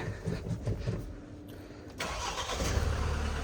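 Car engine cranking and catching, then settling into a steady idle, heard up close with no talk over it.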